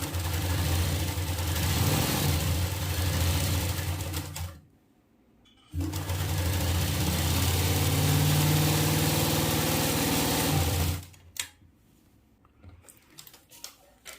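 A sewing machine runs along a fabric edge in two long, steady mechanical hums, the motor whirring evenly. A brief pause splits them, and a few soft handling clicks follow at the end.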